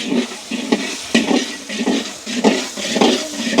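Food being stirred in a large pot with a big ladle in a village kitchen, giving repeated scraping, clattering strokes at a steady rhythm, close and fairly loud with no talking.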